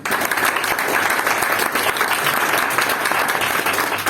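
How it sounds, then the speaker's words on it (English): A room full of Toastmasters club members claps steadily in a big round of applause, dense and continuous for a few seconds with no speech over it. "Let's give our grammarian another big round of applause."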